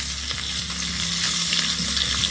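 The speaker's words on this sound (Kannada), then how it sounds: "ಬಿಸಿ ಬಿಸಿ ಎಣ್ಣೆಯಲ್ಲಿ ಕರಿಬೇವಿನ ಸೊಪ್ಪು ಹುರ್ಕೊಂಡು ಆಗೋಗುತ್ತೆ" A continuous close sizzle of curry leaves frying in hot oil for a tempering, with bright crackling pops over a constant frying hiss, no one talking.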